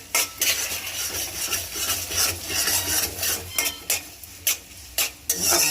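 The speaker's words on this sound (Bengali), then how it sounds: "মুরগির জন্য পেঁয়াজ দিয়ে দিলাম" Onions for a chicken dish frying and being stirred in a pan, with repeated scraping strokes of a utensil and light clinks of metal over a steady sizzle, close and fairly loud.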